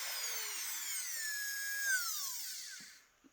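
Small handheld micro motor with freshly replaced brushes spinning at very high speed, a loud close steady whine that shifts in pitch and then cuts off near the end.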